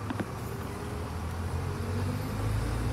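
A Harbour Breezer double-decker bus, registration HF05 GGX, rumbles with a steady low engine drone from inside while it runs route 60 toward Sandbanks Ferry. Faint rattles and road noise sit over the drone.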